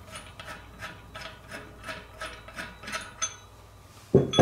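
Bearing puller turning to draw a bearing out of a Hunt bicycle wheel hub, giving a steady series of rhythmic ratcheting clicks and grinding rubs, close and moderately quiet, ending in a louder knock as the bearing comes free.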